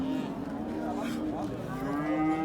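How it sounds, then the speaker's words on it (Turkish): Cattle at the Kırşehir livestock market, with one cow mooing in a long low call that sits amid market crowd noise and talk. "Bu inek 7 aylık gebe."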